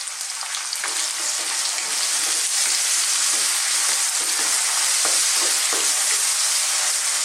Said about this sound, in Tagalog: Nagigisa lang po tayo kasama ng ating minced beef.